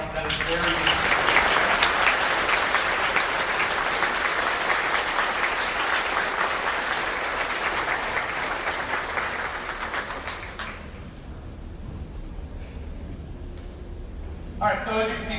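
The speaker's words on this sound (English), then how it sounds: "Let's give a round of applause." An audience at a school band spring concert applauds loudly for about ten seconds, and the clapping then fades into a quiet room with some talk.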